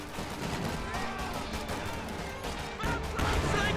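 In a World War II strategy video game, a Sherman tank fires on a machine gun position inside a building: dense, repeated crackling gunfire and blasts overlap in a loud, busy battle din.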